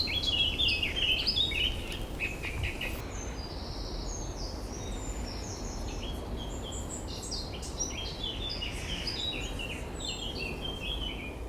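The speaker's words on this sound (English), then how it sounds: "Right, we're hearing a black cap." A blackcap, a small grey-brown warbler, sings a scratchy, warbling song in the dawn chorus. The song comes as bright chirping phrases, strongest early on, with fainter bird calls over soft steady background noise.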